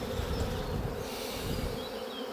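A dense, steady hum of many honeybees buzzing around an open hive as it is split into colonies, a continuous close drone with no pauses.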